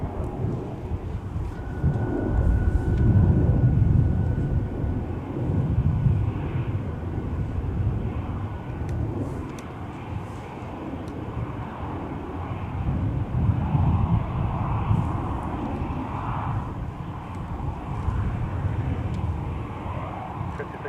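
A Lufthansa Airbus A340 airliner at MSP airport makes a broad jet rumble that swells and fades over about twenty seconds, heard from a distance beneath air traffic radio chatter and wind.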